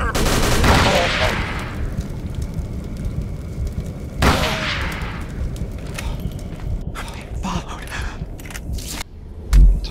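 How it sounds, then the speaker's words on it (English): Gunfire in Call of Cthulhu: Dark Corners of the Earth, with two heavy booming shots that ring out and decay, followed by scattered sharper cracks and a final thump. "Where's that guy shooting me from?"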